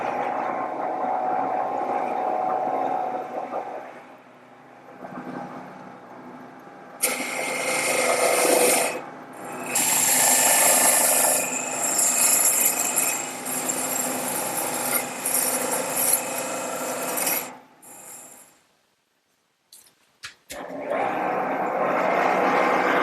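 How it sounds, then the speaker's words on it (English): A wood lathe makes the final cuts on a table leg for a drop-leaf table, run at higher speed. A loud, steady whir with scraping cutting noise continues in long stretches, broken by short pauses and a near-silent gap near the end. "I'm going to speed up the lathe a little bit and make the final cuts."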